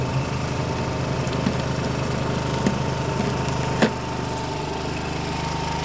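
A Piaggio Fly 125 scooter engine idles steadily and evenly up close, a constant low mechanical hum with a faint knock or tap around the middle, no voices.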